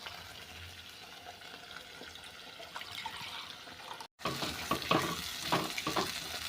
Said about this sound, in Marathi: आता मसाला चांगला परतून घ्यायचा.